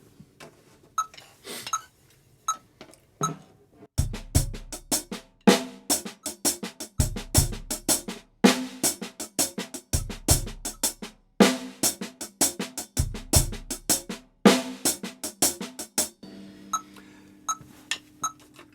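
A steady drum kit groove at 80 BPM with regular kick hits and rapid, even hi-hat or snare strokes, played alone for several bars.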